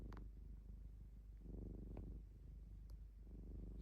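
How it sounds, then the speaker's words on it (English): A cat purrs close and steady, soft rumbling pulses rising and falling in slow rhythmic waves with nothing else around. "Here's my purring."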